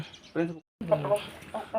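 A Punjabi Aseel rooster gives a few short, throaty clucks in quick bursts, close by and fairly clear, with a brief silent gap between them.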